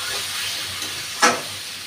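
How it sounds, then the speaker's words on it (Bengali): Pointed gourd paste with salt is stirred and dried in a pan, giving a soft steady sizzle broken by one brief sharp scrape or hiss burst partway through, with no talking. "এরকম নাড়তে নাড়তে শুকিয়ে আনবো"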